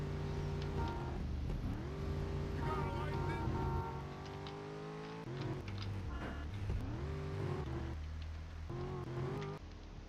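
Engine noise from a Mitsubishi Galant in a GTA III amateur mod, a steady droning motor that rises and falls in pitch as it revs and shifts, loud and continuous for the whole stretch while someone talks over it.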